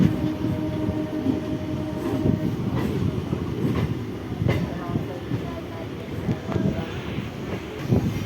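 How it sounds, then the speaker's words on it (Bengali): A train on the Bongaon–Sealdah line rumbles past steadily with rolling wheel noise and faint clatter, a continuous mid-distance roar lasting throughout. "ও পাশে একটা রেল দেখতে পাচ্ছ ওটা শিয়ালদা যায় শিয়ালদা বনগা থেকে শিয়ালদা"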